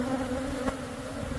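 Honey bees droning steadily inside a large hive built into a house wall, a loud, continuous close-up hum with no talk.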